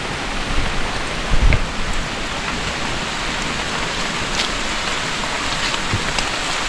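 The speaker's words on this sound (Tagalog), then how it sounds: "lakas ng ulan." Heavy rain pours onto a string bean planting field, a dense, even hiss of falling water with a few louder splashes and thuds near the start.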